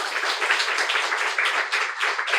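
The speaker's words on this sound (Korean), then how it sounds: "영광 돌리며 박수로 하나님께" A church congregation claps together during a Sunday contemporary worship service, a dense, even burst of applause that carries straight through without pause.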